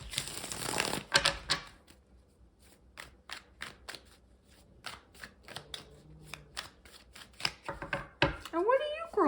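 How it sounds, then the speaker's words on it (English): A rapid flurry of riffling card shuffles, then a series of sharp taps and snaps as cards are squared and dealt, with a brief chirpy noise near the end. "I'm just gonna shuffle this."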